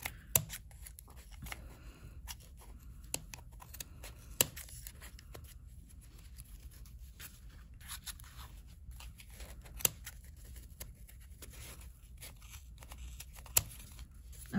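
Not-very-sharp scissors trim strings a couple at a time, making faint scattered snips and soft rustling in a quiet room.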